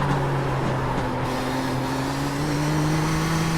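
A race car engine holds a steady high drone at speed on the Charlotte Motor Speedway oval in the iRacing sim, a constant loud tone rising slowly in pitch as it carries third gear up the banking, with no talking.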